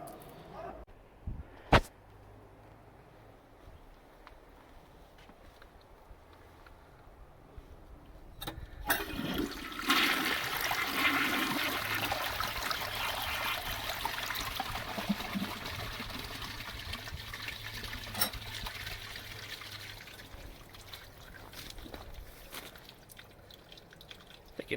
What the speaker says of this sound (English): So I'll fill this up and do a first flush